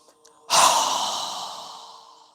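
A single strong exhale during a yoga breathing exercise, a loud breathy rush of air that starts abruptly and trails off slowly over about two seconds, close to the mic with no talk.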